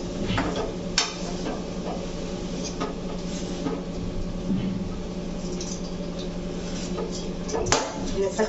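A date mixture with roasted dry fruits is stirred in a pan over low heat: soft continuous scraping and sizzling, with a few sharper knocks of the spoon against the pan.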